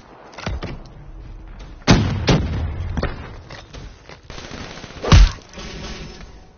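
Frag grenade and combat blasts in Call of Duty Black Ops, several sharp bursts and a heavier explosion near the end, standing out over quieter background noise.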